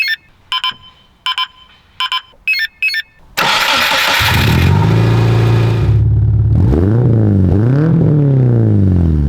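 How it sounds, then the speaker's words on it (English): A few beeps, then a Subaru 2-litre four-cylinder boxer engine in a cheap rally car cranks and catches, settling into a loud idle before revving up twice in quick swells; no talking. "we have a 2-litre 4-cylinder boxer engine"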